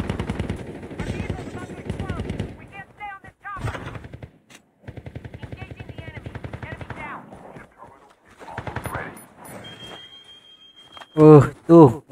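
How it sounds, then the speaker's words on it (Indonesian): Gunfire from a video game firefight: loud bursts of shots break out in short clusters amid continual talk from players, with a sharp, loud volley near the end. "Ada tembakan lagi."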